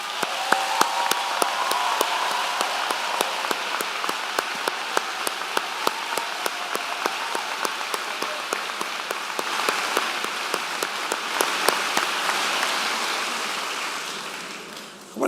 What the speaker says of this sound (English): please stand for a well-deserved round of applause.